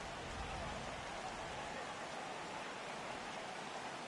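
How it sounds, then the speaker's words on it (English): Heavy rain in the baseball video game MLB The Show 18, a dense, steady hiss of downpour filling the scene without a break, with possible faint commentary voices mixed low underneath. "I think the heart of this system is right on top of us because it is really coming down out there"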